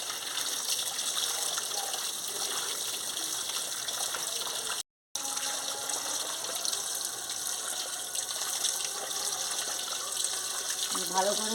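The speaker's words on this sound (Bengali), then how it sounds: "দেখুন আমি ভালো করে ধুয়ে নিচ্ছি, করতে করতে ধুয়ে নিচ্ছি।" Running water from a tap flows steadily as cabbage is washed, a continuous close gush with a short break midway.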